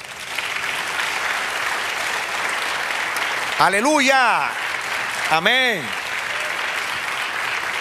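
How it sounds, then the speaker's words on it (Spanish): A church congregation claps steadily through a Spanish-language prophetic message service, a continuous wash of applause with a preacher's voice calling out twice over it. "Del otro aplauso, Señor."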